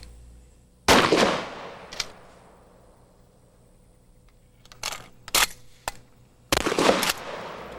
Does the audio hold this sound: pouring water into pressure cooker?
no